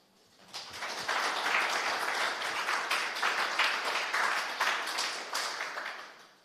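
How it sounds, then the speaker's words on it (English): A conference audience claps for a speaker at an Erlang event, steady broad applause that swells quickly, holds for several seconds and then fades. "So let's give him applause."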